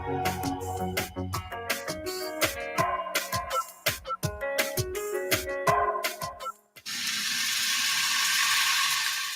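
Certified Piedmontese beef sizzles in a pan with a loud, steady, hissing crackle, coming in after several seconds of plucky music and continuing to the end.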